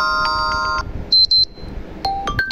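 A Poco F5 Pro phone plays a short ringtone, a few bright electronic tones and beeps in quick succession, clear and close, with no talk.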